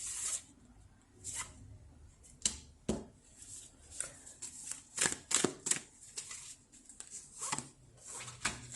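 Tarot cards are shuffled by hand in bursts of crisp riffling and slapping, irregular and close, with quiet gaps between handfuls and no speech.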